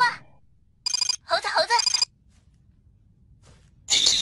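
A telephone ringtone sounding in bursts, three loud bright rings with short gaps between them, the last starting after a pause, with faint voices around them.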